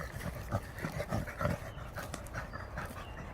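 An American Pit Bull Terrier pants hard and fast after working exercise, a steady rhythmic huffing close up with no talk over it.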